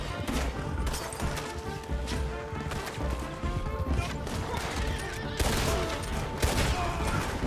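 Gunfire in Red Dead Redemption 2, a dense barrage of overlapping shots and sharp cracks ringing out in rapid, irregular bursts over a steady game soundscape, loud and continuous.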